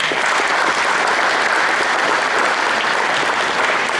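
A loud, even round of applause from a roomful of people at a county touchdown club meeting, dense continuous clapping that holds at a steady level for the whole stretch.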